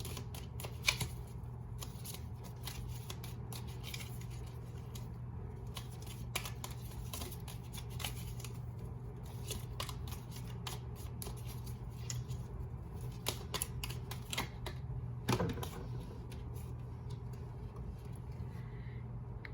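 Tea leaves tarot cards being shuffled, soft repeated riffling and flicking of cards, quiet and close, continuing for a long stretch over a faint steady hum.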